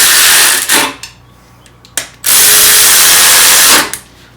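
Power tool tightening bolts during an LM7 engine build, three loud close whirring bursts of varying length separated by quiet gaps, the longest about a second and a half.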